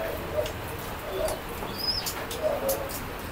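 Soft, low cooing of a breeder's pigeon in short repeated phrases, fairly faint, with a few light chirps in the background.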